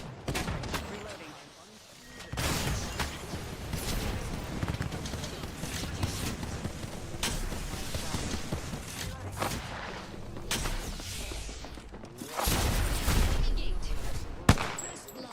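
Rapid video game gunfire crackles in dense bursts with a shooter-game soundscape, loud and close, a heavier burst near the end, with talk over parts of it.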